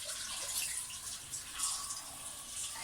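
Water pours steadily from a kitchen sink tap, a continuous soft hiss and splash at low level with no voices.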